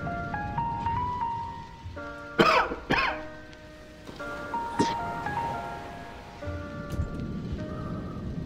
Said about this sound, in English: I'm starting to cough because of this.